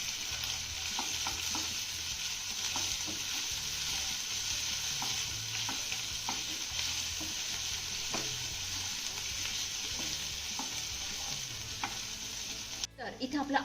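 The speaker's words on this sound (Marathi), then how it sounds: "आता अर्धा मिनिट आपल्याला हा लसूण आणि आलं चांगलं परतून घ्यायचं आहे." Grated ginger and garlic frying in hot oil, a faint, even sizzle running throughout with light utensil taps and scrapes scattered across it, ending in a louder clatter.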